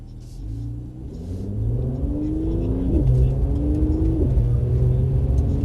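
A Mercedes CLS coupe accelerates gradually, its engine rumbling with a steady rising drone that grows slightly louder and holds, heard from close by without talk.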